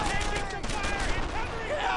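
Gunfire in the World War II shooter Brothers in Arms: Earned in Blood, a dense, continuous wash of overlapping shots with shouted voices mixed through the din for two seconds.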